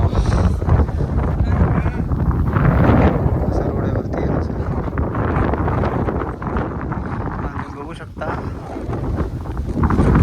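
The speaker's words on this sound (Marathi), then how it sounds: "वरती वारा पण भरपूर आहे" Strong wind on a hilltop buffets the microphone in a continuous roar while a person talks over it outdoors.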